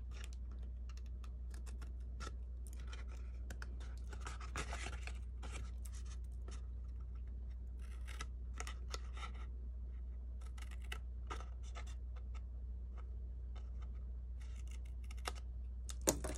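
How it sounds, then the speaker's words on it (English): Scissors snipping through paper along a scored craft line, a steady run of small crisp cuts at close range over a low constant hum, with no talking. "And try cutting straight."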